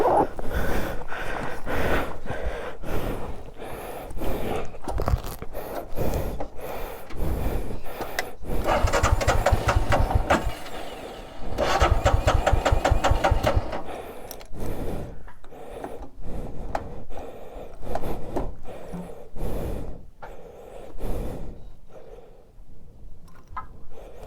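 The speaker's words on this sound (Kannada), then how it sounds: "ಗಾಡಿ ಏರ್ ಬ್ಲಾಕ್ ಆಗ್ತಾಯಿದೆ ಗುರು, ಅದು ಏರ್ ಬ್ಲಾಕ್ ಆಗ್ತಾಯಿದೆ" A vehicle engine labours on a steep forest road in Karnataka, sputtering and revving in uneven bursts with an air block, loud and close, with rattling and knocking throughout and a few quieter gaps near the end.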